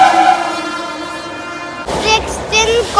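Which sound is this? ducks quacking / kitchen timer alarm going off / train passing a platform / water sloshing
train passing a platform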